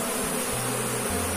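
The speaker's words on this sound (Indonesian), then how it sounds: "kita bisa melihat aktivitas lebah seperti ini" Apis cerana honey bees buzz at their hive after being moved in from the wild, a close, continuous droning hum with several overlapping wingbeat tones.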